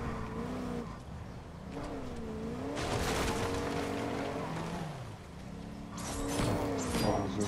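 A vehicle in Fortnite drives with a rising and falling engine whine that shifts pitch as it accelerates and turns, joined by rougher rumbling bursts and noise later on.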